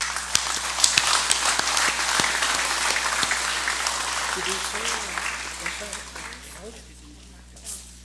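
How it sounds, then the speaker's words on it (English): An audience applauds chairpersons at a national congress session in Micronesia, a steady wash of clapping for about six seconds that gradually thins and fades, with a voice briefly speaking near the end. "So may we give all these chairpersons a round of applause."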